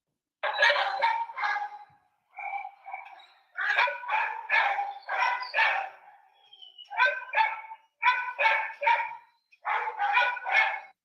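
A dog barks and yips in repeated bursts of several quick barks with short gaps, close and loud, with no talk over it.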